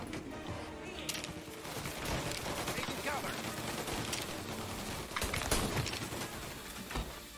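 Dense, sustained automatic gunfire from a machine gun in the Mafia: Definitive Edition shootout, loud and continuous with overlapping bursts and sharper cracks throughout.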